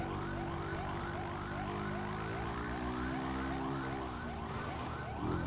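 Several police car sirens wail continuously in a GTA RP video game chase, overlapping rising and falling tones stacked loud and steady with engine rumble beneath, no talk.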